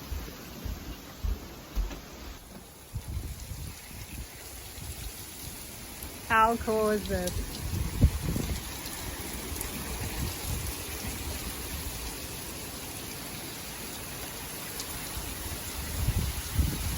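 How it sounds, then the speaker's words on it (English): A rainstorm patters and hisses steadily on the water around a floating tiny house near Boca Grande, Florida, a broad continuous wash with occasional louder splashes, while a person speaks briefly over it. "I love it here when it rains."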